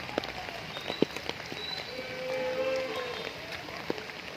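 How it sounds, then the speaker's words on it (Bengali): Heavy rain pattering outdoors, a soft steady hiss of falling drops with scattered sharper splashes and a brief swell midway, fairly quiet overall. "এখানে প্রচুর বৃষ্টি হচ্ছে"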